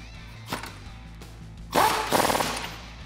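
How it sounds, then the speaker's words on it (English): A 21 mm socket wrench works a nut on a leveling kit shock of a Ram 1500, giving a few brief ratcheting clicks and then a louder burst of scraping, rattling metal work nearby. "Grab your 21 socketed wrench and tighten that down."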